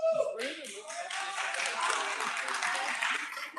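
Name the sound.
audience applause at graduation celebration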